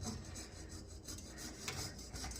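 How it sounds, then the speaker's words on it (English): A coping saw cuts through a large dapped copper dome, a quiet rasping stroke repeated in a quick rhythm, faint and close. "using the coping saw to cut my copper dome here that's been dapped"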